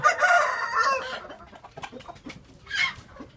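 An Indian breed rooster crows loudly up close at the start, followed by scattered clucks and another short crowing call near the end.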